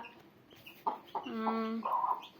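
A chicken clucks close by in a short series of throaty, rising calls, with faint background noise.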